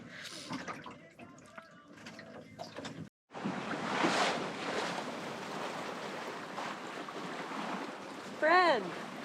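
Sailboat in the Race to Alaska pushing through choppy water, with close wind buffeting and wave wash after a few seconds of talk, plus a brief whistling creak near the end.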